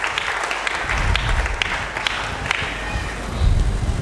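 A church congregation applauding for the Lord, a steady dense patter of many hands clapping throughout, with a faint voice underneath.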